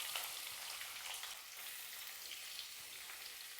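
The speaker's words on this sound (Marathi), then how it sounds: "आता याच्यात हा स्लाइस केलेला कांदा टाकून घ्यायचा आहे" Sliced onion frying in a pan for a chicken dish, a continuous even sizzle and crackle, fairly faint and steady, with no talking.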